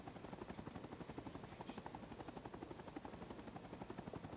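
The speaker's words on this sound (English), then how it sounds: "I said I'm not spawning in a helicopter again" A helicopter in the video game RSV2 gives off a rapid, steady rotor thumping throughout, faint and even, with no talk.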